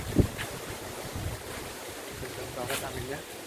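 Strong wind sweeps through trees in a rural village, roaring in gusty broadband waves and buffeting the microphone, with a few brief knocks.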